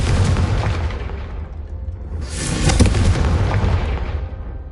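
A Confringo fire spell explodes in the video game Hogwarts Legacy, a loud booming burst with a rushing roar that swells midway and then tails off, close and dense, with no voices.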